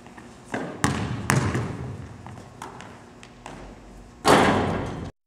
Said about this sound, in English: You're going to set your feet, wait for the ball, catch it, and shoot it.